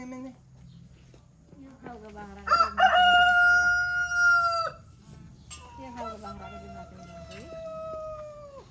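Chickens crow loudly in several long, drawn-out calls mixed with clucking on a farm with goats nearby, fairly close, while a person talks in between.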